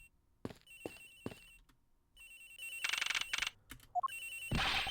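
A cell phone rings in the Ace Attorney Investigations video game, repeated electronic ringtone bursts that grow louder and more insistent, with a short rising chime near the end.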